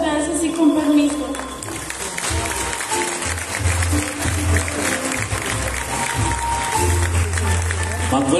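An audience at a fair's queen coronation applauds for a sports representative, a dense, continuous clapping that carries across the room while an announcer's voice booms over a loud PA.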